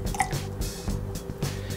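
Gin is poured into a Pear Collins cocktail over pear puree, with soft dripping, liquid trickles and small splashes into a glass, close and moderately quiet, with no talking.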